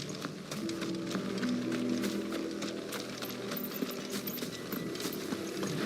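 Horses galloping in the video game Final Fantasy XVI, a steady run of rapid hoofbeats mixed with game music and effects, fairly loud throughout.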